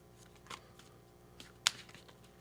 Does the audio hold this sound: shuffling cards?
yes